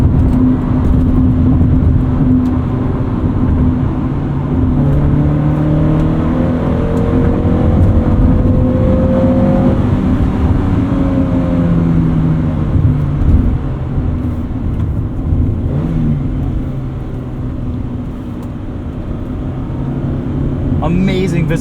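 A 1993 Honda Prelude Si 4WS with a five-speed manual, heard from inside while driving, its engine revving up and down through the gears toward a 6,500 RPM redline, loud and continuous under someone talking.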